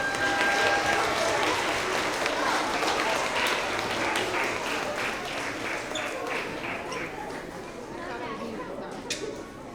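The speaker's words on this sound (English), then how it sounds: "let's give them another round of applause" An audience at a 3rd–5th grade winter award assembly claps steadily throughout, a dense, moderately quiet wash of applause in a large room.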